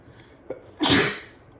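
A single loud, close sneeze bursts out after a brief sharp intake of breath, then fades quickly into quiet.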